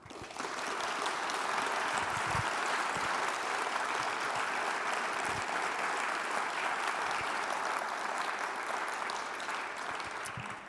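A conference audience applauding at the end of a talk: a dense, steady wash of clapping that starts abruptly and holds at an even level for about ten seconds before tapering slightly.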